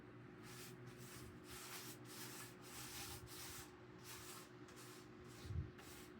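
The first coat of paint is sprayed onto a handmade tombstone prop, heard as a quiet series of short, evenly spaced hissing passes at close range, with no talking.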